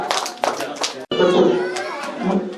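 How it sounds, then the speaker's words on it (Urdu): An audience claps for prize-winning students at a school event, a short burst of brisk applause from a crowd with children's voices and chatter mixed in. "تالیاں کے بین میں ان کو مبارکباد دی جائے"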